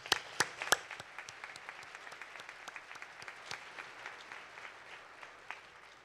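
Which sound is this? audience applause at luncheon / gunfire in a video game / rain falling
audience applause at luncheon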